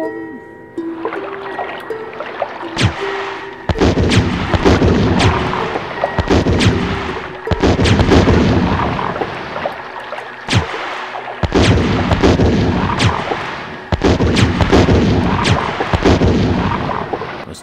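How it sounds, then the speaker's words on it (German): Repeated heavy bazooka blasts from the PlayStation 1 Resident Evil Director's Cut, loud booming shots in bursts with decaying rumble between them, no talk over them. "ich hab die Bazooka, ich hab noch 127 Schuss."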